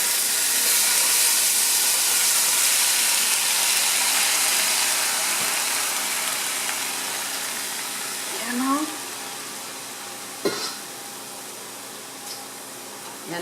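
A steady loud hiss of tomatoes sizzling in a pan of hot oil with garlic and onions, continuous and close, with a brief clatter or squeak partway through.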